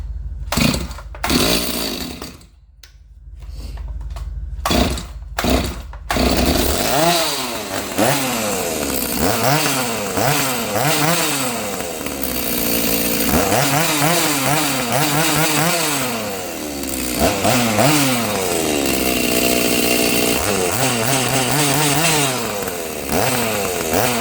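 Ported Stihl MS290 big bore chainsaw: a few sharp pull-start bursts, then the engine catches and runs loud and close, revving up and down in repeated rising and falling swells.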